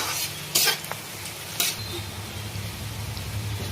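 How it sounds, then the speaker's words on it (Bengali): Onions fry in a pan with turmeric, browning toward golden, giving a close, continuous sizzle with a couple of loud metallic stirring scrapes early on, no voices. "পেঁয়াজটা একটু গোল্ডেন কালার করে ভাজবো"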